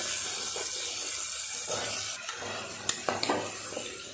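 Potatoes are added to hot oil with tempered asafoetida and stirred in a pan, a soft background sizzle broken by a few sharp scraping stirs and clinks toward the end.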